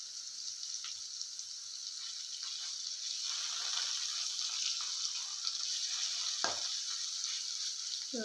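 Kozhuva fish frying in hot oil, giving a steady bright sizzle throughout, with faint stirring and scraping noises near the end and no talk.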